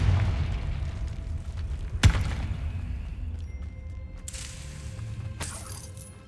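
A Confringo fire-spell blast from Hogwarts Legacy lands as one sharp, booming impact about two seconds in, followed by lighter magical bursts and steady rumbling game ambience.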